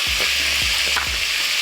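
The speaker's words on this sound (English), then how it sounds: "we want to brown this lamb just like this. You can hear that sizzle." Pieces of lamb browning in a hot pan, a loud continuous close sizzle with a few soft knocks of a utensil moving the meat.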